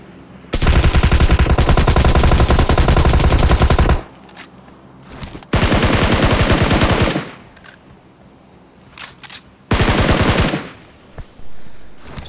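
Bots firing automatic guns in a mobile shooter game, with three loud sustained bursts of rapid fire separated by quieter gaps, the first one longest, plus a shorter burst near the end.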